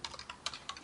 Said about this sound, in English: we're going to go ahead and start typing in our Apex class